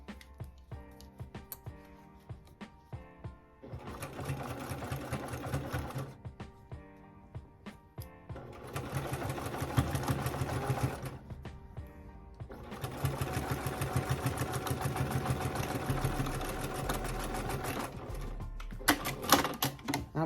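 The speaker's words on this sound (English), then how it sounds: "I'm going to go across my zipper with my sewing machine needle" A sewing machine stitches across a zipper on an African print pouch, running in several bursts of rapid, steady mechanical chatter separated by short pauses, close and clear with no voices.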